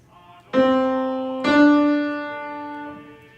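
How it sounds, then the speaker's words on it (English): Two sustained tones sound in succession, the second slightly higher than the first, forming a major second interval that rings out and fades. "A major second sounds like this."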